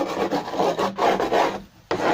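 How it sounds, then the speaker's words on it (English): Grass being scraped off a Flymo mower deck in repeated rough, rasping strokes, loud and close, with a brief pause before the scraping resumes, no speech. "sometimes it can be hard to scrape the grass off. So you need to scrape it like that."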